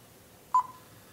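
One brief, clean beep from a universal remote learning a signal, sounding alone and near in an otherwise quiet room.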